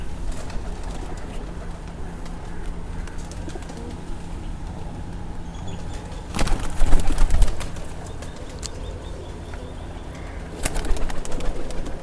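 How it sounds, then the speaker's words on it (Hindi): Pakistani Nasal Prince Golden pigeons coo softly and repeatedly against a steady outdoor background, with a couple of brief louder rustling bursts. "बहुत अच्छे कबूतर है।"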